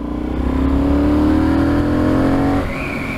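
A loud, close Benelli Leoncino 800 Trail motorcycle engine revving and rising steadily in pitch for a couple of seconds, weak at low revs, then easing off into a lower idle.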